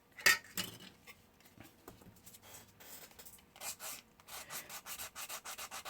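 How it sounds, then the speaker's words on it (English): Sandpaper rubs against the wood of a miniature model door jamb in quiet, scratchy strokes that become a quick, regular back-and-forth rhythm toward the end, close up and with no voices. "I could also go in here and sand all that up."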